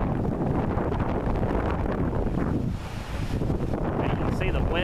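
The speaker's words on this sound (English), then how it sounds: "And you can see the wind's blowing." Strong wind gusting as a spring storm moves into Coles County, a loud continuous roar buffeting the microphone with a brief lull midway, and voices talking faintly under it.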